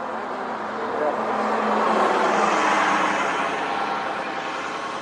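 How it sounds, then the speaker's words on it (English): City bus arriving at a stop, its engine drone swelling as it draws near and then easing off, a broad steady rumble with no voices. "Oh, here comes the bus."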